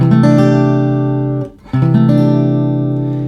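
A guitar strums a warm, rich 6 add 9 chord that rings out, is briefly muted, then is strummed again and sustains, close and clear with no voices.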